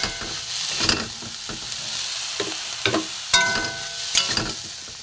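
Shrimp frying in a pan at home, with a steady crackling sizzle under repeated sharp scrapes and clinks of a spatula stirring. The cooking is close and fairly loud, with no talking.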